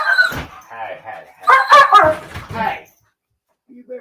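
A dog barking and yipping near and loud in short bursts, with a whimpering quality, and a brief faint sound after a pause.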